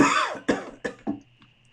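A single person coughs in a short series of about four bursts, the first longest and the rest shorter and fading, close and clear with no talk over them.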